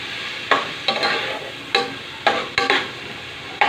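Onions and tomatoes sizzle in a frying pan as a utensil stirs and scrapes them in several uneven strokes, close and fairly loud over a steady hiss.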